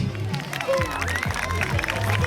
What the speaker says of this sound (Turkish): Evet kuvvetli bir alkış.